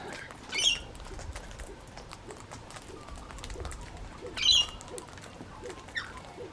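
Gang-gang cockatoos feeding quietly: soft cracking and nibbling clicks over a low background, with a couple of brief growly creaks standing out at intervals.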